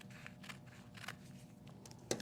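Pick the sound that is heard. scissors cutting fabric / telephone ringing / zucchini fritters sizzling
scissors cutting fabric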